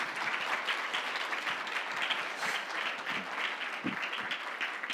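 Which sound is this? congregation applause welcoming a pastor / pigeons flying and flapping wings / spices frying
congregation applause welcoming a pastor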